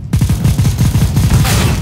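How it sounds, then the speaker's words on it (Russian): Rapid bursts of automatic gunfire in the video game CS:GO, a loud, dense rattle of repeated shots that continues steadily for nearly two seconds. "Кто там стреляет в нас?"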